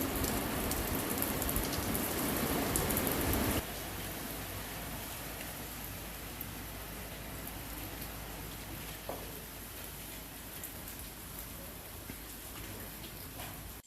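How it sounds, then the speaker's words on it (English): Steady rain falling on a rainy day in Jamaica, a dense, constant hiss of drops on surfaces that is louder at first and then continues slightly softer, with no voices. "Rainy day, all day long."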